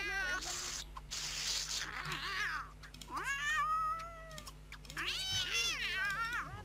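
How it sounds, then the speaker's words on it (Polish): A cat in The Sims 2 meows and yowls repeatedly in drawn-out, wavering cries, close and loud, with short pauses between calls over a low steady game hum. "Co robi mój kot?"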